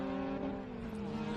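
A race car accelerates up the back straight at Winton Motor Raceway in Australia, a sustained engine note droning steadily with a faint shift in tone, heard from a distance without speech.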